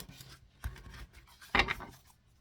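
A tarot card deck being cut gives two short papery scuffs and riffles, the second louder and fuller, close by and quiet with no voices.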